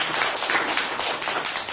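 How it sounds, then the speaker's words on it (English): A real estate investors' meeting audience claps, a short burst of fairly close, dense applause with some individual claps standing out. "give him a round of applause for getting this deal."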